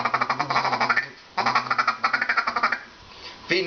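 A handheld duck call imitates a mallard, blown in quick rhythmic runs of loud, close quacks, with a short pause and a final burst at the end.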